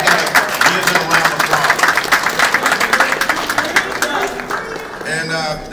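Applause from a holiday event audience fills the room, dense clapping rising and falling in steady bursts for several seconds, with voices mixed in under it.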